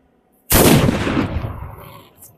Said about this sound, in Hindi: काफी हेवी आवाज था इन सब पटाखे का